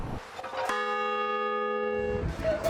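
A single bright bell chime used as a sound effect rings out clearly and sustains for about a second and a half before fading, with brief noisy bursts just before and after.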